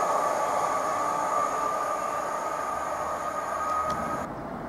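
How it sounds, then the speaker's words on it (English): A Class 755 FLIRT passenger train pulls away from a platform at Stowmarket station, a steady rumble and hum with a sustained tone, fading slightly as it leaves; no talking. "FLIRT 755409 is continuing its journey to Ipswich."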